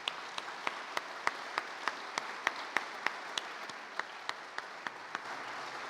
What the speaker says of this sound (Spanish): Un aplauso para luces y sonido,